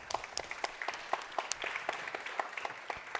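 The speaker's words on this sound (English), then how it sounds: "So if you can give some of our sponsors a round of applause." An event audience claps for sponsors in a moderate, fairly quiet round of applause, individual claps audible throughout the brief burst.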